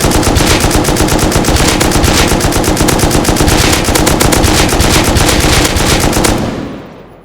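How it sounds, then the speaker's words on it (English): Continuous fully automatic fire from an M249 machine gun in the video game Rust, a loud, dense stream of rapid shots lasting about six seconds before cutting off and ringing out. "it's an M249"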